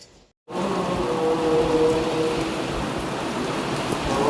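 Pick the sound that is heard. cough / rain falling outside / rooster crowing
rain falling outside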